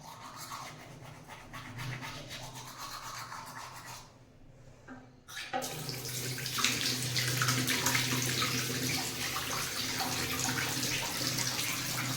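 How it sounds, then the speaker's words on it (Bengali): A tap runs steadily while someone washes their face in a hotel sink, a continuous close splashing hiss that briefly drops away midway, then resumes louder with splashes. "আমাকে মুখটা ধুয়ে নিই"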